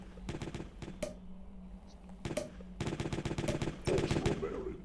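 Rapid bursts of cake-gun fire in the video game Jazzpunk, loud and close, rattling in repeated volleys with short gaps between them.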